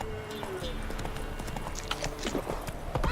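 Horse hooves clip-clop at a quick, steady gallop in The Witcher 3, close and continuous under game ambience, with a voice urging the horse on.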